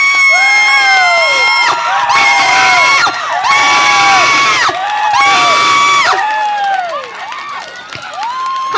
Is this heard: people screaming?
yes